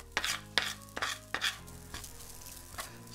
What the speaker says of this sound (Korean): 이걸로 긁을게요.